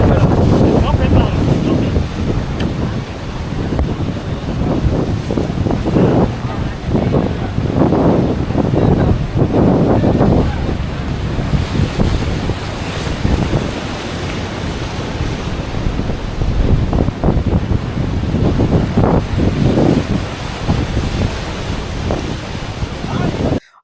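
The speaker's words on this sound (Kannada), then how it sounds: "ಆ ಅಲೆಗಳಿಗೆ ಆ ನೀರೆಲ್ಲ ನಮ್ಮ ಮೇಲೆ ಬೀಳ್ತಿದೆ" Ocean waves surge and crash where a river meets the sea at Sasihitlu beach near Mangalore, heavy rolling surf with strong wind buffeting the microphone, close and continuous, with voices talking over it.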